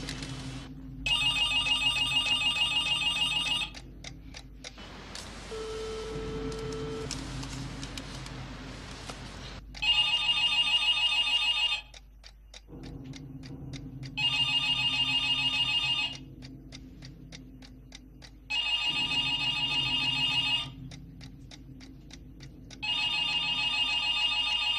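A telephone rings in repeated bursts of bright electronic trilling with short quiet gaps between rings, moderately loud, in a tense indoor scene with no talking.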